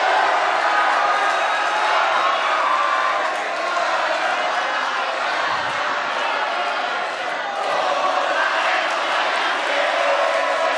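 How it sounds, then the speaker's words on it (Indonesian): Crowd at a rally for village-head candidates cheering, shouting and clapping, a dense, steady roar filling the whole stretch with voices blended into one loud wash. "Boleh mana teriakannya, tepuk tangannya, boleh yel-yelnya."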